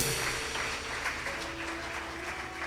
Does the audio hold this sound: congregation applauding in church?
yes